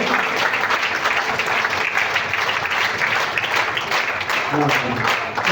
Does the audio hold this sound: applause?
yes